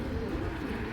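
Round-headed pigeons coo in a low, steady murmur, close and fairly loud, filling the short moment without any talk.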